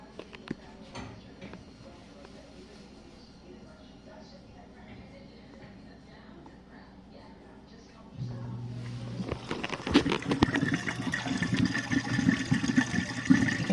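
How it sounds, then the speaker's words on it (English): Water rushes into a GE dishwasher through its drain, a steady low flowing and filling sound that swells louder partway through and continues to the end, with a voice faintly talking beneath. "You can actually see the water going in through the drain."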